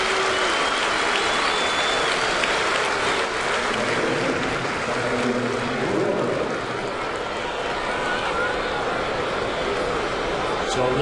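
Crowd applause and cheering at a Red Sox versus Yankees baseball game in 2009, a steady broad roar of clapping filling the whole stretch with a rising swell near the end, crowd noise throughout.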